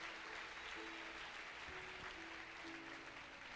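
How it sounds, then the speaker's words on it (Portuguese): A church congregation applauding during a Sunday service, a faint, distant wash of clapping that holds steady for a few seconds, with a low hum underneath. "Vamos aplaudir o Senhor pela Dona Emília"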